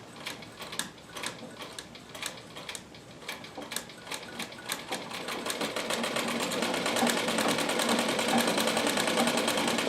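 A Royal Brother sewing machine runs steadily, its rapid needle clatter ticking out an even mechanical rhythm that grows denser and a little louder as the stitching speeds up.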